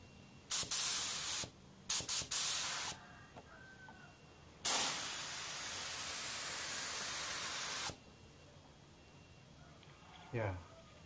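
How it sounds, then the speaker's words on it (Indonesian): An Auarita H 891 spray gun sprays paint left to right in bursts: a few short hissing blasts, then one long steady spray lasting several seconds, close and loud in a quiet room. "Oke, kita akan semprotkan dulu ya dari kiri ke kanan."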